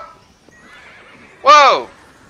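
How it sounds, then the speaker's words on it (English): A horse in the survival video game Rust lets out one loud, clear whinny partway through, preceded by faint background sound. "I just literally heard a horse."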